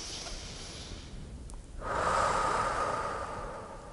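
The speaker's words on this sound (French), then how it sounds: "On respire ensemble." Slow, deep breath drawn in and then let out, heard up close in a quiet room as part of a calming exercise with a child, with a brief gap between inhale and the longer, louder exhale.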